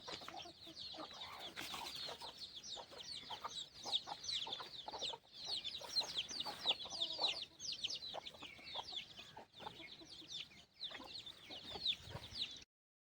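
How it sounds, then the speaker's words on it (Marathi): Village hens let loose to roam and peck at grain keep up a busy, overlapping clucking from many birds nearby, steady throughout with no voices. "तर भावानं तुम्ही बघू शकता हे आपले सगळे कोंबडी"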